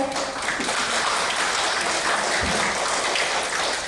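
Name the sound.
church congregation applause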